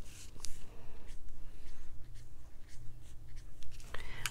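Soft scratchy colored pencil strokes on card paper, short quick flicks repeating at an irregular pace, close and quiet.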